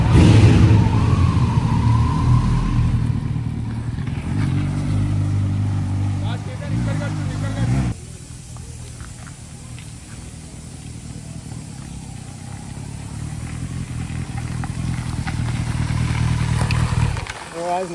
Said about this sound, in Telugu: బైక్ తీసుకుని అయితే బయటికి ఒక రౌండ్ వెళ్దాం.